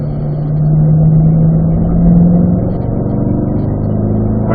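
A Corvette's engine on a race track, a steady mid-pitched drone with a slight rise and fall in revs, heard from inside the car with no talking.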